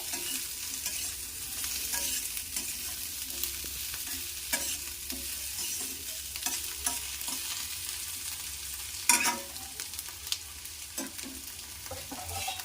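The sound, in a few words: stirring vegetables in a frying pan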